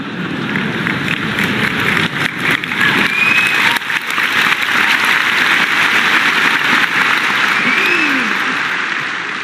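An audience at a Sandeep Maheshwari motivational talk claps loudly and continuously, a dense, sustained wash of applause with no break.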